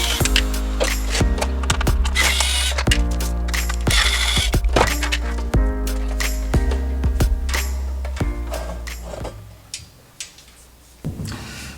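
Screws are removed from the bottom plate of a Pioneer SX-737 receiver, giving close, rapid ratcheting clicks and metallic ticks in bursts that fade near the end, with no talking.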